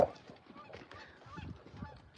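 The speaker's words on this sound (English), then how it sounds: "Some geese." Several geese on a farm honk repeatedly at a moderate distance, their calls overlapping in an irregular chorus.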